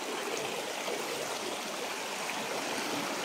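River stream flowing over rocks on a mountainside, a steady broadband rushing and trickling wash, fairly faint and continuous with no breaks.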